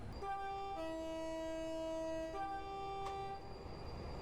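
A Class 390 electric train in Virgin livery in Train Sim World 5 sounds its horn: a loud, sustained two-tone blast that steps down in pitch and then back up, heard alone without talk.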